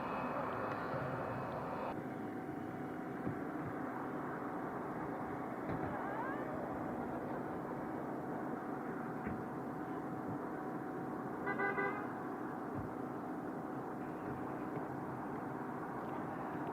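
A Northrop Grumman RQ-4 military drone's engine whines steadily with a thin high tone after landing on the apron, heard from some distance, with brief horn-like toots and occasional muffled sounds.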